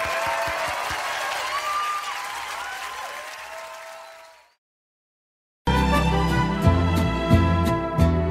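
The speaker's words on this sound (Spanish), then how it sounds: "El aplauso para mis vástagos." Audience applause at a ranchera music concert, a loud sustained wash of clapping and crowd noise that fades out, followed after a gap by music starting.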